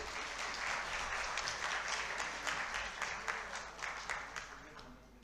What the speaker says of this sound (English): May we welcome them with a big round of applause,